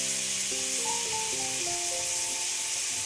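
Spring onion whites sizzle in a pan for chowmein, a steady soft hiss running throughout beneath a stepped background melody.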